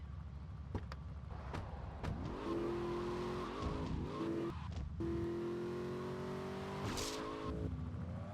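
A car in GTA Vice City revs and skids while ramming another car, with rising engine whine, tire squeal and scattered sharp knocks of impact, heard fairly quietly.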